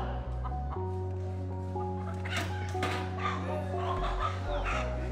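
A hen clucks in short bursts close by, over a steady low hum, with the clucks growing busier toward the end.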